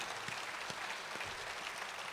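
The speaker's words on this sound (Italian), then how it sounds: "Facciamo un bel applauso, grazie." An audience claps at the Festa del Ritorno 2018 festival in Vasto, heard faintly and from a distance as a short, even patter of applause.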